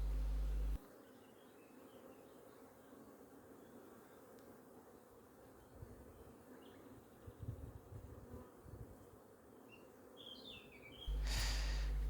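Honeybees hum around an open hive whose frames hold a large brood, a soft continuous buzz with occasional nearer passes, faint and alone, in an outdoor setting.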